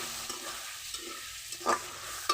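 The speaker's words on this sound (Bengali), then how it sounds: "এবার একটু ভালো করে মিশিয়ে নেব।" Ridge gourd and potato curry with oil, salt and turmeric is stirred in a pan, a soft sizzle running underneath a few faint scraping clicks of the spoon near the end, close and quiet.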